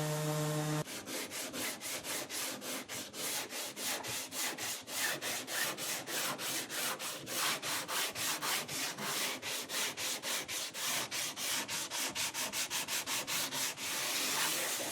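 Hand sanding the back of a wooden skyline diffuser, rapid rhythmic back-and-forth scratchy strokes repeating steadily for many seconds, close and moderately quiet with no talking.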